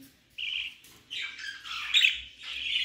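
A budgerigar chick squawks in harsh, raspy bursts, three or four close calls in quick succession with short pauses between them.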